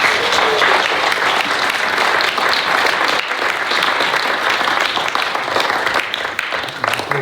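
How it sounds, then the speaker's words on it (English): Wedding guests give a sustained round of applause for Paul and Sandra at a countryside barn venue in Suffolk, loud dense clapping filling the room with a few voices mixed in. "can we all give Paul and Sandra a round of applause?"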